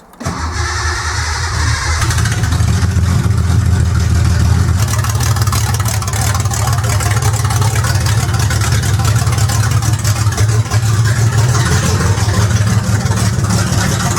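A Datsun 240Z with new headers and exhaust cranks and fires up, then runs loud and steady on choke with a deep rumbling idle, close and alone throughout.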